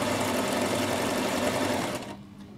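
A Bernette Rome 3 sewing machine runs steadily and close up, sewing a double overlock stitch for about two seconds before the motor cuts out and goes quiet.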